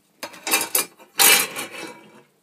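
Metal cover of an APC UPS lifted off during repair of a welded AVR relay fault, two short bursts of scraping, clanking sheet-metal noise, close and fairly loud.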